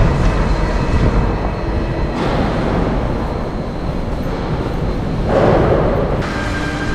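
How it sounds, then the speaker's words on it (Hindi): A Paris Metro line 13 train pulls out of an underground station with a loud, steady rumble and a rising and falling whine, close by and continuous, with no voices. "ये वाला निकल गया, नेक्स्ट ट्रेन में हम जाएंगे।"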